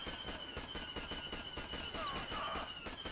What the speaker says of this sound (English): They're already shooting at something.